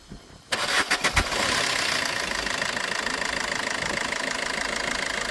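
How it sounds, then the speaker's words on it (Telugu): A 2013 Maruti Suzuki Ertiga VDI diesel engine cranks with a few quick turns, catches, then settles into a steady, loud, rattly idle that continues unchanged to the end. "ఇంజిన్ అయితే స్టార్ట్ చేసి సౌండ్ ఎలా ఉందో చూపిస్తాను"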